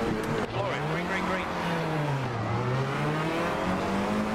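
Race car engine held on the rev limiter before a start, a loud steady high-pitched engine drone with wavering pitch, close to the microphone, with a voice speaking over it.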